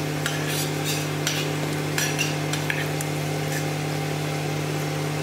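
Chopped onion and green chilli go into a hot pan and are stirred: scattered scraping clicks of a utensil against the pan over a steady sizzle and a constant low hum.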